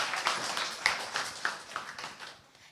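Scattered audience clapping after a speech at a speaking championship, a few distinct nearby claps over a soft, thinning patter of applause that fades out within a few seconds.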